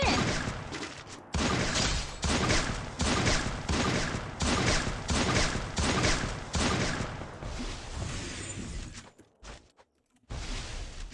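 Rapid bursts of gunfire in a battle-royale duo-versus-squad match crackle in repeated volleys, loud and close, with a brief pause near the end before firing resumes.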